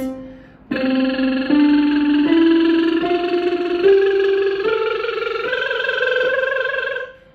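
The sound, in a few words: lip trill on a C scale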